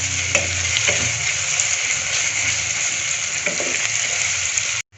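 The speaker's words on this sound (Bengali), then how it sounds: "পেস্টটাকে হালকা ব্রাউন করে নেব।" Spice paste for a Bangladeshi chicken roast fries in a pan with a steady, close hiss and crackle, broken by a few soft stirring knocks, then cuts off abruptly at the end.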